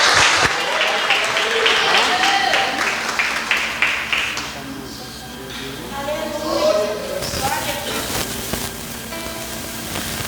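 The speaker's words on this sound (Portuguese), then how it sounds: "Vamos receber eles com palmas para Jesus." Applause from a Portuguese-language church congregation, a dense clapping burst early that fades into mixed crowd noise, with voices talking and calling out over it.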